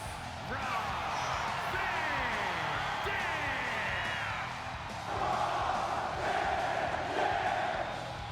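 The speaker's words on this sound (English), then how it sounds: "crowd do be loving Mr. Ronald Van Donald" A wrestling show crowd cheers and roars in a large arena, a loud, continuous wash of voices that swells near the end, with an announcer's voice faintly underneath.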